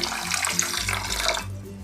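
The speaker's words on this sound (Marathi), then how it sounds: "आता आपण स्वच्छ धुवून घेऊया" Kolam rice being rinsed clean in water, with close splashing and swirling that stops abruptly near the end, leaving a low steady hum.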